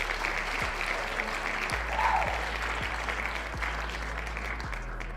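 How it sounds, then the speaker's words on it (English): Steady, dense crowd applause fills the whole clip at even loudness, a continuous wash of many hands with a faint low hum underneath and no speech over it, during a postgame talk show. "Let's get a round of applause for Paulie Walnuts."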